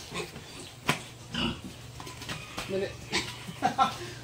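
A small piglet, around 22 kilos and a few weeks old, grunts and oinks in short bursts close by on a farm, mixed with human voices.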